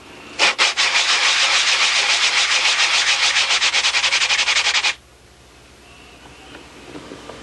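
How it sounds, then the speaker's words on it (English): Close, loud, rhythmic sanding strokes as a block grinds cured CA glue flat on a wood lamination for a handle, followed by a sudden stop and near quiet. "we've sanded flat right down into the CA"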